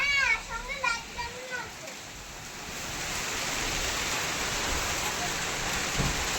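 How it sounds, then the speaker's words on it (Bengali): Rain falling during a storm, rising into a steady broad hiss that takes over after a voice is heard briefly at the start. "আজকে কিন্তু ভালোই মেঘ করেছে, বৃষ্টিটাও শুরু হয়ে গেছে"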